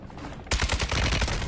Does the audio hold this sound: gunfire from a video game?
yes